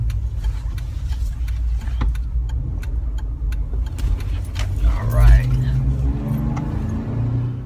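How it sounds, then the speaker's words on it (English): Jeep Wrangler on a 2.5 inch Rough Country lift kit, heard from inside the cabin as it drives and swings through a U-turn; steady low road and engine rumble with rattling, jangling keys and a brief swell of engine noise. "Let's see if I can make a quick U-ey here."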